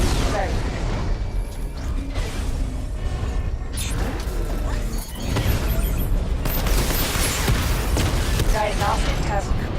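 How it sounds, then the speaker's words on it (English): Missile barrage firing in Batman: Arkham Knight, a dense, loud run of mechanical clanks, thuds and rumbling launches that holds steady for about ten seconds, with a surge of bright crackle in the second half and a voice partly over it. "Missile barrage level 2 ready"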